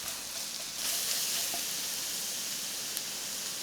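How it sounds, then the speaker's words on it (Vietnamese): Minced garlic frying in leftover pork fat in a pan makes a continuous, even hiss and sizzle close by, with a faint tick or two and no voices. "Còn lại mỡ trong chảo thì mình cho tỏi băm vào phi lên."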